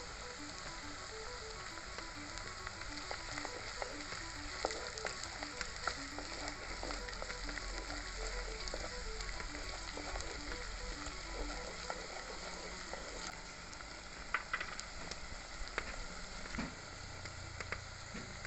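Konam fish curry cooks in hot oil with a steady, close sizzle and crackle and small pops scattered through it, with no talk.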